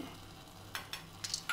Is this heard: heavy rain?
no